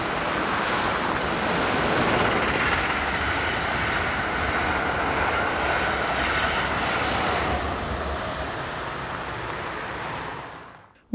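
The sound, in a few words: locomotive 186205 hauling the Amsterdam to Brussels train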